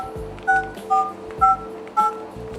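Physical keypad buttons on a flip phone are pressed four times in a steady rhythm, each press giving a short dual-tone beep close up, with soft clicks in between.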